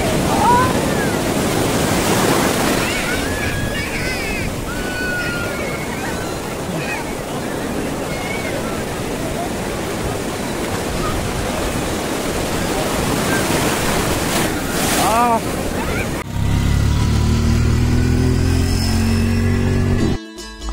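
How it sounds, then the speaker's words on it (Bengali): Big ocean waves roll in at Digha sea beach, a loud, continuous surf roar with rushing wash and wind buffeting the microphone, faint voices mixed in, before a sudden rumbling handling noise near the end. "বড় বড় ঢেউ।"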